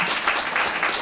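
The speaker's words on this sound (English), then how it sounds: "That deserves a round of applause, doesn't it?" A short burst of audience applause, a brief wash of many hands clapping at even loudness, heard alone.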